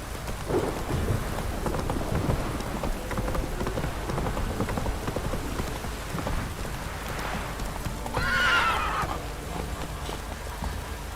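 Rain falls steadily during a thunderstorm in The Witcher 3, with low thunder rumbles and scattered clip-clop from Roach the horse, who gives a brief neigh about two-thirds of the way through.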